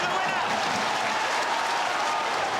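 Dense stadium crowd applauding and cheering at Filbert Street on an emotional football night, a loud continuous wash of clapping that holds steady throughout without pause.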